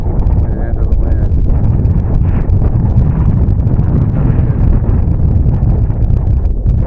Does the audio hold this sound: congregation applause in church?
no